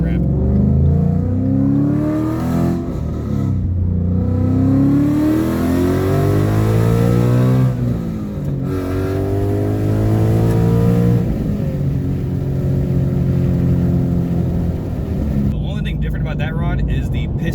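A truck with a cheap LS V8 engine, built with a 5.3 bottom end, accelerates up an on-ramp. The engine note climbs loudly through gear changes with a short dip near the middle, while someone talks over it throughout.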